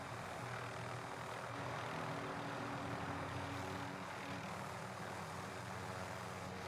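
Bomber aircraft from the video game Warzone flying over, a steady broad engine drone holding loud and constant throughout with no voices.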